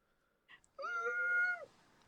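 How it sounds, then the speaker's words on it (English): A single drawn-out meow from a cat, fairly close and clear in a quiet room, preceded by a small faint chirp. "That's my cat"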